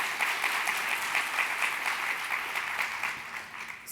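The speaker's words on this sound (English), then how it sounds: "let's give him a round of applause" An audience at a talk on financial health claps for a guest speaker, a steady wash of applause at moderate volume that tapers slightly near the end.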